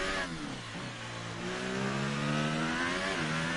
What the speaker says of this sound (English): Some weird over-revving going on.